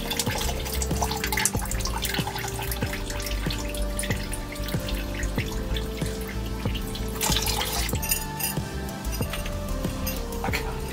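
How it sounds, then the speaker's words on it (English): Liquid poured into a ginger and rhubarb home brew, a steady wet splashing and trickling that runs continuously at close range with no talk over it. "Let's pour a bit of this fluid in."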